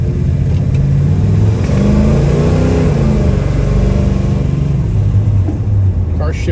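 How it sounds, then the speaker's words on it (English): A 1970 Chevrolet Chevelle with a 396 engine and a Turbo Hydramatic 350 automatic transmission revs up loudly, its engine note rising and dropping through the gear shifts, close by with a voice talking over it. "Car shifts out really nice."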